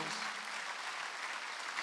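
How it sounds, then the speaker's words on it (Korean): Church congregation at a Wednesday worship service claps together in a brief, faint, even patter of many hands that holds steady without voices on top. "빨리 박수하세요"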